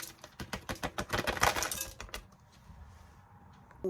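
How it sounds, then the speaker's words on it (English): Whole cardamom pods dropped into a clean hot pan, a quick run of about a dozen sharp clicks and rattles landing close by, then a quieter settling hiss. "In goes the cardamom"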